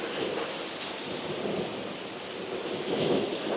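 Rumbling thunder rolls through a steady wash of rain during a storm in Orlando, a broad continuous roar that swells slightly near the end, heard alone without voices.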